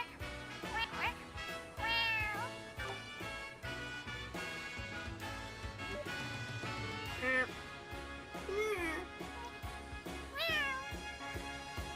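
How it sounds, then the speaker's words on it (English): A cat mews in the Trails to Azure video game, with short rising-falling calls repeating across the stretch, set against busy game music and someone talking throughout. "Did I hear like a little mew sound come out of that?"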